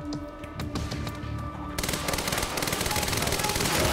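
Rapid automatic gunfire in the action shooter Quantum Break, loud continuous bursts that grow denser and heavier partway through, with no pause in the shooting.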